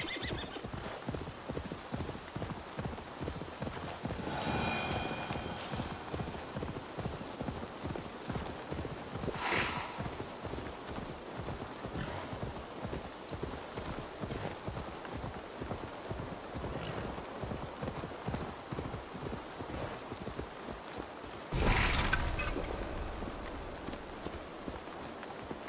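Horse hooves gallop in a fast, steady rhythm throughout in Assassin's Creed Valhalla, with a couple of whinnies breaking in along the way; game audio with no talking.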